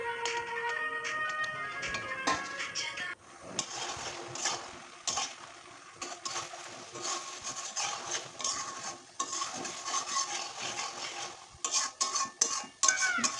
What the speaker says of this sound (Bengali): লো ফ্লেমে ভালো করে নাড়িয়ে চাড়িয়ে নেব যাতে দুধের মিশ্রণটি মালপোয়ার সাথে ভালো করে মিক্স হয়ে যায়